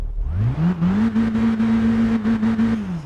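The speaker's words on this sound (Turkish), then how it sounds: "Şöyle bir ara gaz da verelim" A car engine in a video game revs up sharply from low, then holds at a steady high drone with slight pulsing before easing off, loud and close.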